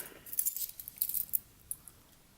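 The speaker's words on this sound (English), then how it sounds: "a bunch of keys" A bunch of metal keys jangles close by in a few quick bright shakes, light chiming clinks clustered at the start and tapering to sparse faint taps.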